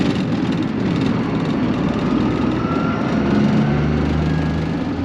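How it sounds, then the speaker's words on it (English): Tractor pulling a Kuhn Pro System 9400NT seed drill, a steady engine drone with a low hum that rises slightly near the end, continuous and moderately close. "So we're out at my place now with the Kuhn seed drill"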